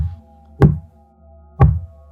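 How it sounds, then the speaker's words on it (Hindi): Two heavy, dull thuds roughly a second apart, like slow human footsteps on the floor above in a silent apartment at night, close and muffled over a low steady hum. "ये इंसानी कदमों की आवाज़ थी।"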